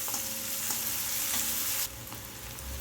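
Onion and garlic fry with a quiet, steady sizzle while being stirred, with soft periodic scrapes; the hiss drops slightly partway through.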